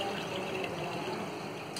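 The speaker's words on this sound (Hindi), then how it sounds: "मैं जिस भी क्वांटिटी में बनाती हूँ उसमें उतना पानी भर लेती हूँ" Water pours steadily into a container while preparing a morning drink, a continuous close rush of filling liquid with no talk.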